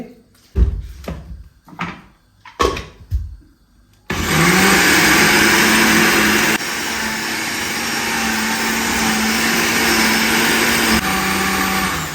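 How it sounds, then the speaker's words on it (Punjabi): A mixer grinder whirs loudly and steadily as it grinds moong dal with a little water, after a few seconds of handling clatter; the motor note dips briefly midway and then runs on continuously. "ਪਹਿਲਾਂ ਇਹ ਮੂੰਗ ਦਾਲ ਨੂੰ ਆਪਾਂ ਨੇ ਇਸ ਆਪਣੀ ਮਿਕਸੀ ਵਿੱਚ ਪੀਸ ਲੈਣਾ"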